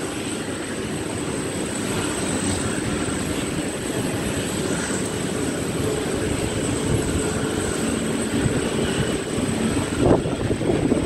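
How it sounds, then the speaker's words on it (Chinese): A China Airlines Boeing 747 taxis at Taipei Taoyuan International Airport, heard from an observation deck as a steady, moderately distant jet roar that holds throughout with no talking. "我的华航波音747"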